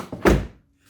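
A single solid thunk as the door of an Audi A4 B6 shuts, close and heavy, with a brief lead-in rattle and quick decay into silence.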